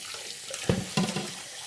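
Water runs from a kitchen tap as pork chops are rinsed, a steady hiss broken by two brief splashy bursts as the meat passes under the stream.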